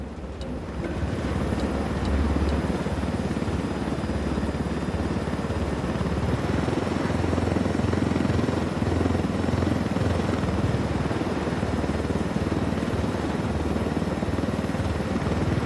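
A helicopter flies low through a canyon in Ghost Recon Wildlands, its rotor drone a steady, loud, continuous roar with a faint high whine, heard alone for the whole stretch.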